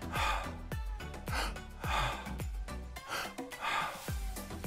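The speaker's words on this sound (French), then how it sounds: "ouvrez la bouche. On inspire par la bouche, on expire par la bouche." Slow, deep breaths drawn in and pushed out through the mouth during a guided relaxation exercise, several even cycles of audible inhale and exhale, close and alone.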